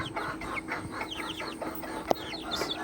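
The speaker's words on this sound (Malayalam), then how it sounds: "വിൽക്കാൻ നിർത്തിയിരിക്കുന്നതാണ് ഈ കോഴിക്കുഞ്ഞുങ്ങൾ" Young native chicks peep and cluck close by, a busy stream of short, high, falling chirps overlapping one another.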